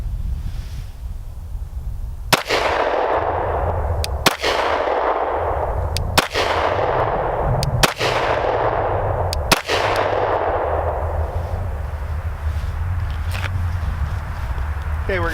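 Five slow, evenly spaced pistol shots from an Agency Arms 19 at an outdoor range, each a sharp loud crack with a ringing tail, over a steady background of wind or range noise.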